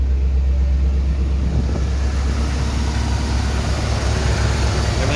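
A 1988 Chevy V30 engine running steadily through its new exhaust, a deep continuous rumble recorded close with some wind buffeting and no break in the drone.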